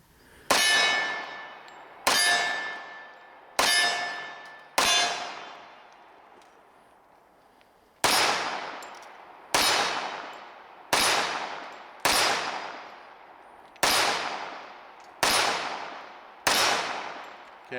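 Ten sharp pistol reports from a SIG Sauer P220 Legion firing 230-grain .45 ACP, each a loud crack with a long ringing tail; three come in quick succession, then a pause, then seven more at a steady pace.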